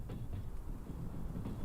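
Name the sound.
train passing in Trans Siberian Railway Simulator video game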